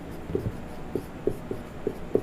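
A pen writes a line by hand during a math lesson, giving faint, quiet scratching strokes with about six short taps and scrapes in an irregular rhythm against a soft room background.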